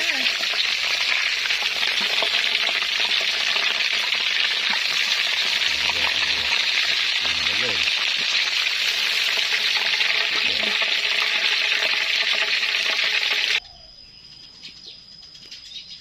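Battered rice-field crabs deep frying in hot oil, a dense steady sizzle and crackle held close and loud for most of the span, then cutting to a much quieter background near the end.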